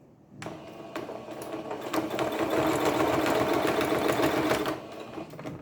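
Sewing machine stitching a fabric mug rug, running steadily for about four seconds close up, then slowing and stopping, with no talking.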